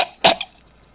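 A single sharp cough bursts out close and loud, with a fainter trailing catch right after, in an otherwise quiet moment with no talk.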